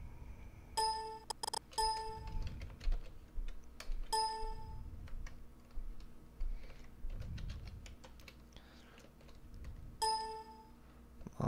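Someone types on a computer keyboard in clustered bursts of quick, crisp clicks, with short pauses between runs and a steady low room hum beneath.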